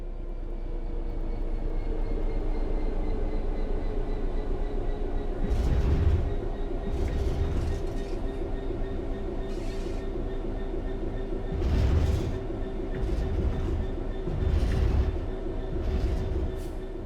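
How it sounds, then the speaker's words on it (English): A train coasting on level ground in the Train Sim World 3 game gives a steady rolling rumble, with several louder low thumps and clatters from the wheels partway through. "The train will then coast on level ground, and the train will only slow down very gradually."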